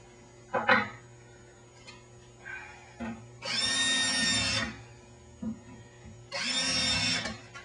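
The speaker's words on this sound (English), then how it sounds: "We'll use a self-centering drill bit to pilot our holes." A power drill with a self-centering bit whirs in two short bursts drilling shallow pilot holes for a mounting plate, separated by small knocks and handling sounds, close by and with no talking.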